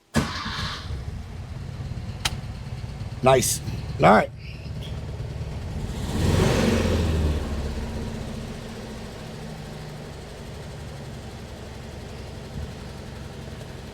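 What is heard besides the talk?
1968 VW Type 3 engine cold start and idling with dual 34 carbs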